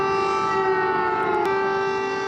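Air raid siren wailing over Kyiv, a steady loud civil defense tone with strong harmonics that holds level for a couple of seconds, heard alone without voices.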